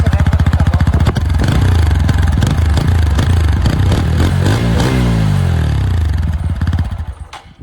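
A 2022 TVS Apache 160 motorcycle revving its exhaust, close and loud, with repeated throttle blips and a strong low, rasping note that holds steady before easing off at the end.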